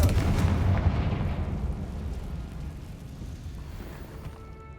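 A spell blast explosion in the video game Hogwarts Legacy: a heavy booming burst at the start that rumbles and slowly decays over several seconds, with no talk.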